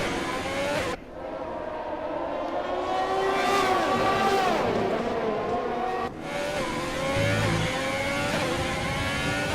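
An F1 race car engine in the video game F1 20, Singapore Grand Prix, screams at high revs, pitch sweeping up and down through gear changes, with a brief drop and a second surge.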